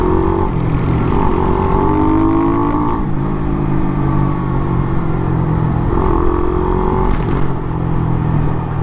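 A Suzuki Raider 150 Fi motorcycle with a remapped ECU, 36mm throttle body and 10-hole injector runs close by, its engine rising and falling through several revs over a steady idle, with no talk.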